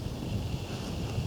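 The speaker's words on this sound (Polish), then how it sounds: "tutaj jest wiatr, trochę będzie mi tutaj dmuchał w te drzwi" Steady low rumbling wind buffets the microphone outdoors, a continuous blustery roar with no voices.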